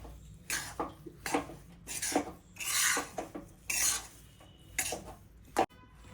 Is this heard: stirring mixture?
yes